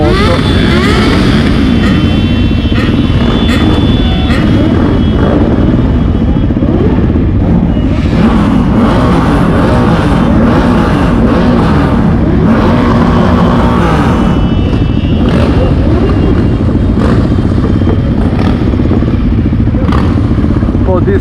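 A group of mixed motorcycles, four-cylinder, twin and single-cylinder bikes, idling and pulling away together on a rally ride in Sardinia, a steady close engine rumble with rising revs, under people talking.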